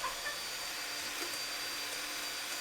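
Electric kitchen mixer running at its lowest speed while making apple brownie batter in a bowl, giving a steady, moderately loud motor whir that holds even throughout with no talking.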